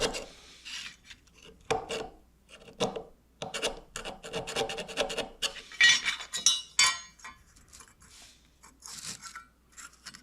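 A small hand file scrapes along the tight radii of a metal aircraft nose rib to deburr it, giving short, irregular rasping strokes up close with faint metallic clinks between them and no talking.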